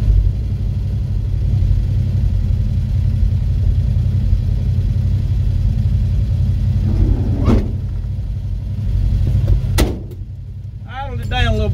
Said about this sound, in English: Idled it down a little bit. It's idle a little too high.